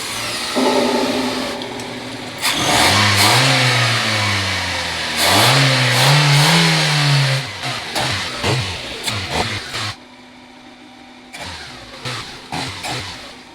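A car engine runs loudly nearby during a repair to free a seized spark plug without removing the engine, revving up and down in surges before dropping to a lower rumble with intermittent bursts.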